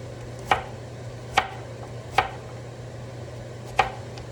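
A knife chops vegetables for green lentil soup, four sharp separate strokes on a cutting board, evenly spaced, over a low steady hum.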